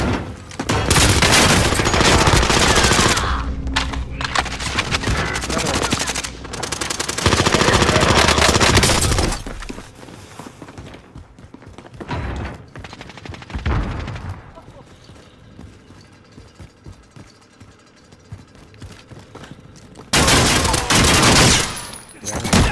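Video game firefight with dense bursts of automatic gunfire, loud and close at the start, then scattered shots and quieter stretches under excited talking, and another heavy burst near the end.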